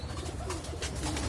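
Pigeons and their chicks in a loft, with soft cooing and faint chirping blending into a steady, close, continuous murmur of birds.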